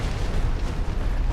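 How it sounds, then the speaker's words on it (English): Fiery area-of-effect explosion from a boss in Dark Souls 2, heard as a dense, continuous roaring blast of broadband rumble that holds steady and loud throughout, with no voices. "He's going to do an AoE explosion when he does that, which Lucatiel ran right into."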